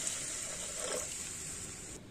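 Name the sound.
water poured into the pan for jhol momo soup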